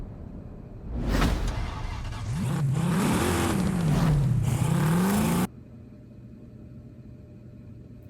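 A Plymouth Belvedere in Forza Horizon 5 starts up and revs, its engine note climbing and wavering through several throttle swells before cutting off abruptly to a low idle hum.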